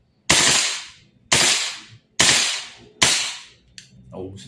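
A Colt URGI 14.5 gas blowback airsoft rifle by VFC fires four sharp, loud bursts in burst mode, each with a decaying tail, followed by fainter mechanical clicks as the bolt locks open.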